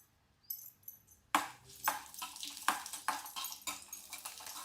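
Garlic cloves frying in a pan with dried red chillies for a Coimbatore-style red chilli chutney, giving a steady sizzle broken by repeated clinks and scrapes of a spoon against the pan.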